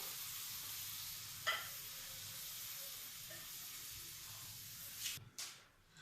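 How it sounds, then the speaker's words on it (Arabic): Chicken and onion frying in a pan as sweet pepper goes in, a quiet steady sizzle and hiss with a brief spatter burst near the end, close and low in level, no talk. "من بعد ما تشحر لينا الدجاج مع البصله مزيان نضيفوا ليه دابا الفلفله حلوه"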